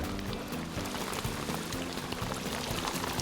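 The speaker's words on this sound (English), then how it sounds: "In a hailstorm." Hail pelts a river during fly fishing for brown trout, a dense, loud spattering hiss of countless impacts on water that stays continuous from start to finish.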